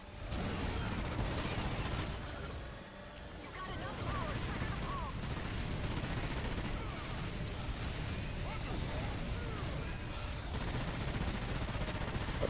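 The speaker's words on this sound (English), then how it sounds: "I'm just spamming my mortar strike, guys." Repeated mortar strikes pound a video game battlefield in a dense, continuous barrage of blasts and rumbling booms, steady and fairly faint overall with no clear gaps.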